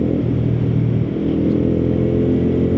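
A custom Suzuki Burgman 125 scooter with its exhaust valve open, a loud close low engine drone with a throaty, uneven rumble and a slight shift in tone partway through, heard alone without talk.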